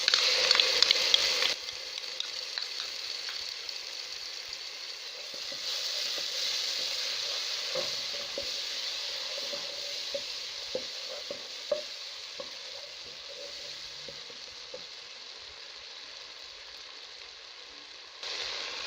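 Steady sizzling as tomato paste fries in a pan, with occasional stirring scrapes and soft squishing, a continuous crackling hiss close by.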